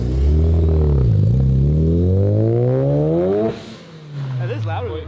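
A 4-rotor engine car revs hard and close, its loud, rising harmonic wail climbing steadily for several seconds before cutting off abruptly, followed by a lower rumble and a short second rev.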